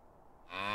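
A cow moos in the medieval farming game Medieval Dynasty, a single short call that swells in at mid-level and holds briefly.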